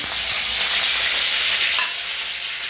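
Dried red chillies and curry leaves frying in hot oil for an instant ginger pickle, a loud steady crackling sizzle throughout with a brief sharper pop near the end, no voices.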